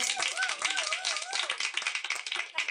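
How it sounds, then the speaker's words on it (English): Audience applause during a full session, a dense steady patter of many hands clapping throughout, fairly close, with a faint tonal sweep and voices mixed in underneath. "All right, you can all applaud yourselves if you wish."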